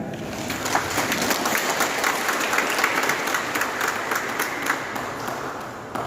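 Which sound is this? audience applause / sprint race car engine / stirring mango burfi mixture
audience applause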